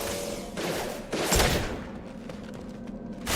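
Gunfire in the Mass Effect 2 video game, a burst of loud shots and thuds over a steady game soundscape, swelling mid-clip then fading into scattered softer impacts.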